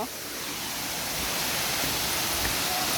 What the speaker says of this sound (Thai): ได้ยินเสียงน้ำตกแล้วนะคะ ตอนนี้